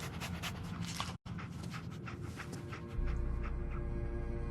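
Dogmeat, the canine companion in Fallout 4, pants in quick, soft breaths close by, interrupted by a brief dropout, with a low game hum swelling toward the end.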